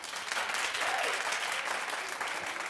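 A TV talk-show studio audience applauds, dense steady clapping that fills the room for a few seconds with no speech over it.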